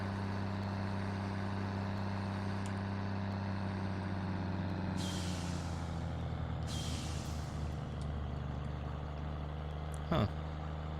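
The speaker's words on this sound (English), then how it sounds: "Okay, so this truck does go faster than" A truck in the Farming Simulator 17 video game drives on with a low, steady engine drone, two bursts of air hiss and a sharp click near the end, all without talking.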